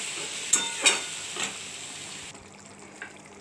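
Potato and pointed gourd curry simmers in a pan after a little water is added, a few close stirring scrapes over a soft bubbling sizzle that settles down.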